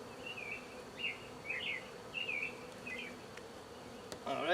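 Honeybees from a hive being split hum in a low, steady background drone, while several short chirpy calls rise above them and a louder rustle closes the moment.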